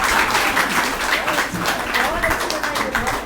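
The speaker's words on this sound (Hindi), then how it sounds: "ताली बजाइए जोरदार" An audience at a talk in Gwalior bursts into loud, sustained applause, dense rapid clapping filling the room without pause.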